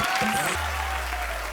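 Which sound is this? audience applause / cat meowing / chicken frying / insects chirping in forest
audience applause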